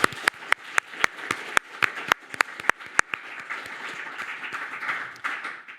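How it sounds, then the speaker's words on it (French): A studio audience on a weekly news show applauds a guest journalist, opening with a few loud, distinct claps that swell into a denser, softer patter of many hands before fading. "Un tonnerre d'applaudissements pour Claire Allais"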